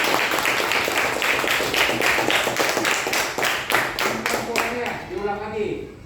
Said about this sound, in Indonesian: Iya, tepat ya, tepuk tangan.